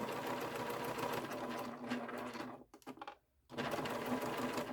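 Sewing machine stitching a Dewdrop wristlet, running as a steady close mechanical whir that stops for about a second and then resumes at the same pace.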